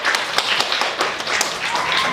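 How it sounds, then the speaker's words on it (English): An audience at a primary school celebration claps for the guest of honor, with a short burst of fairly close, lively applause from a modest group, the individual claps distinct and steady. "he needs a round of applause for that"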